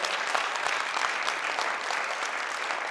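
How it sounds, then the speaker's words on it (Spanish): An audience at a weekly political assembly gives continuous, lively applause, with dense clapping that stays at an even, fairly loud level throughout and has no talking over it. "Un aplauso muy cariñoso."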